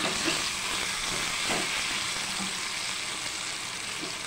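Colocasia pieces roasting in a pan just after being flipped, producing an even, unbroken hiss of frying oil, loud and near.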